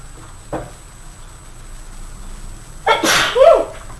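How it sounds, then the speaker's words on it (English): A single loud sneeze erupts near the end in a home kitchen while food is being mashed, preceded by a faint brief sound and quiet room tone. "Definitely don't sneeze in the food"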